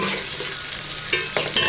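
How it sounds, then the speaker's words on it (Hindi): Potatoes and cauliflower frying in a pan for a dry aloo gobi, giving a steady close hiss of frying with a few brief stirring clatters near the end. "हमने रखी है फ्राई करने के लिए।"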